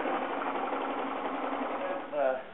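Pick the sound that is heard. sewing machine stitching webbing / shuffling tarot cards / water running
sewing machine stitching webbing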